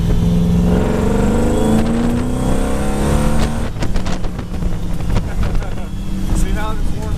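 A truck engine revs and roars under hard acceleration, loud and close with rising harmonic sweeps, then settles into a rougher rumble with wind buffeting while people talk.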